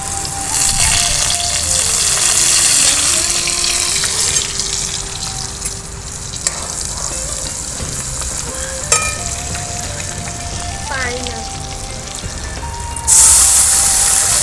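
Mustard seeds splutter and crackle in hot oil on a traditional clay stove outdoors, a loud continuous sizzle with scattered pops and a brief surge near the end.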